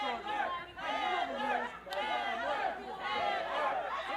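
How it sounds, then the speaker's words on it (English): A crowd at an FSW wrestling match yells and cheers with many overlapping voices, rising and falling in waves, fairly distant and moderately loud, with one sharp smack partway through. "And the crowd trying to get behind Heather Monroe"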